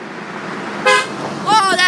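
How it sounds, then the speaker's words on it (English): A car horn toots twice in short bursts, a brief honk near the one-second mark and a longer double honk toward the end, over steady street background on a sidewalk. "Oh, he honked."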